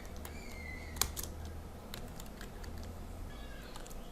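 Sparse, light clicks from a computer keyboard as someone types code for an Android app, with one sharper key strike standing out over a low steady hum.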